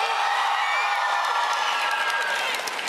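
Applause and cheers from a small group of Bernie Sanders supporters at Liberty, a dense, steady wash of clapping and crowd noise heard at moderate distance with no clear voices.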